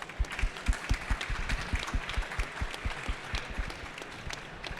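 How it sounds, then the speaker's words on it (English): Scattered, uneven clapping from an audience at a GeoAI conference in London, individual claps distinct and fairly close, thinning rather than swelling into a full ovation. "Round of applause."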